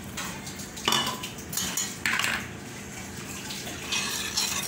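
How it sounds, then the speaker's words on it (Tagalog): Spoon clinking and scraping in a small dish as gelatin powder is stirred into a quarter cup of water, steady close-up stirring with a few louder clatters, no one talking. "Haluin lang natin siya hanggang sa ma-dissolve yung ating gelatin powder."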